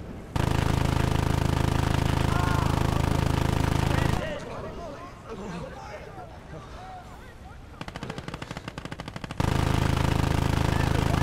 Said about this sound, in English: There's an MG nest over there.